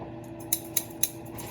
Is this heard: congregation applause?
no